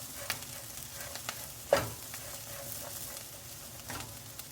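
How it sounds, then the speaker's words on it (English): Bitter gourd stir-fried in a pan, a low continuous sizzle broken by soft scraping strokes of a spatula and one louder clatter near the middle. "stir fry a little bit"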